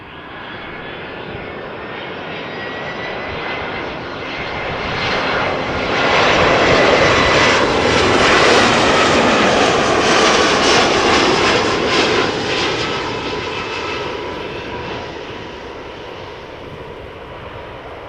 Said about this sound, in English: Iberia Express flight 3722. Arriving from Madrid, where it left an hour and 52 minutes ago.